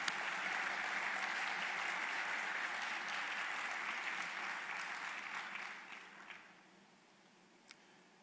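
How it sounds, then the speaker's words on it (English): Audience at a global digital services summit in Jamaica applauding, a full, even wave of clapping that tapers off after about six seconds into near silence with a last stray clap. "Clap ourselves."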